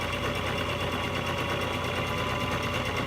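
A sewing machine stitches curtain material with a steady, fast, continuous whir. It runs close and even for the whole stretch, with no voices.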